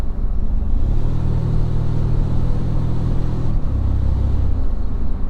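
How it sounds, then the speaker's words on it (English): Interior cabin drone of a Toyota Tacoma Trailhunter on the move, a loud steady low rumble with a sustained engine tone that shifts pitch partway through, the turbo breathing faintly through the snorkel, no talking. "how much do you hear that turbo noise coming out of the snorkel?"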